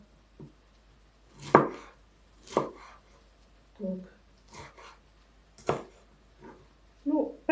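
A knife chops a large, thick-walled sweet bell pepper into uneven pieces on a cutting board, giving about seven distinct, crisp thuds spaced irregularly with short pauses between them.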